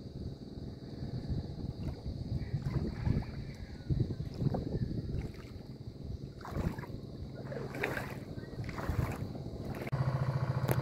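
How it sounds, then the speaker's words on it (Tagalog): A boat comes in across the sea below a hillside overlook, its motor a steady low rumble under gusting wind noise and open-water ambience, with no talk. "Ayan, may bagong dating na bangka."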